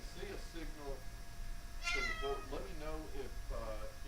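A cat meows several times in drawn-out, whiny cries, close and clear, with short pauses between calls.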